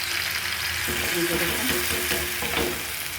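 Spices with turmeric, cumin and ginger fry in a pan, giving a constant close sizzle with soft stirring scrapes and a faint murmur underneath.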